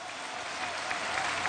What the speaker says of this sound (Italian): gli facciamo un applauso, gli mandiamo un saluto